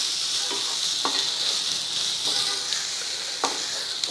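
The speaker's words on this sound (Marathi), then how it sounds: "मस्त कोथिंबीरेचा रंग येईपर्यंत परतायची आहे तिला, म्हणजे तेलात टाकल्यावर तिचा रंग बदलतो." Coriander leaves sautéing in hot oil with onions in a pan, a steady close sizzle punctuated by a few soft stirring scrapes.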